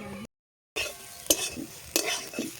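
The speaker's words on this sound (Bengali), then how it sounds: "গাজর ভেজে নেব।" Carrots fry and sizzle in an oil-filled kadai with steady crackling, broken by a short silence and two sharp scrapes of a spatula stirring the pan, close and moderately loud with no talking.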